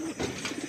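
Pigeons in a loft giving a brief burst of low, throaty cooing, repeated pulsing coos close by over faint background rustle.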